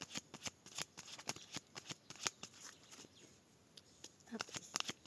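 A deck of tarot cards is cut and shuffled, producing quiet, close, rapid papery flicks and riffles in uneven clusters with brief pauses.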